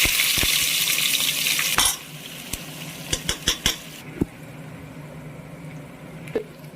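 Chopped onions drop into hot oil and ghee with whole spices for Ambur chicken biryani. A loud hiss rises at first, then eases to a quieter fry broken by a few sharp clinks and taps.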